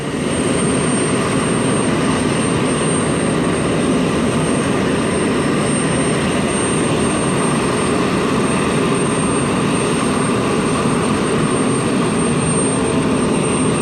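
A Delta airliner at Port Columbus Airport gives off a steady, loud jet engine roar, a continuous broadband rumble and whine that holds level throughout with no voices.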